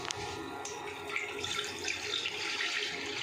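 In a village kitchen, water is poured into a pot on a stove to heat for Maggi noodles, making a continuous quiet splashing gush with a few small knocks.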